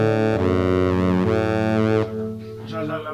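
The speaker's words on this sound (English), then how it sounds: "This will sound like a saxophone. Well, it is a saxophone, but I use it as a trumpet solo." Synthesizer saxophone preset played as a trumpet-like fanfare solo, with sustained bright reedy notes and a bending pitch, loud and clear, before the sound shifts to a thinner, fluttering tail.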